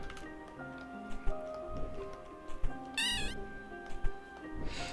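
Cats in a video game meow repeatedly in short, scattered calls over a quiet background of faint tones and soft ticks, with one brighter, wavering yowl near the middle.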